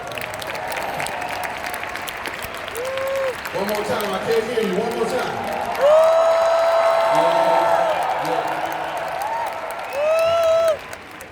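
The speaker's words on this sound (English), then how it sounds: "we should clap for that" A large audience at a Nu Skin Live event claps and cheers in surging waves, with whoops and shouts rising over the applause while an amplified speaker urges the crowd on.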